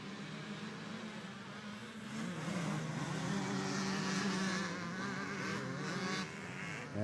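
Open-class two-stroke motocross motorcycles race at Winchester Speedpark, a buzzing, high-revving engine chorus that swells and rises in pitch at mid-distance, then eases slightly.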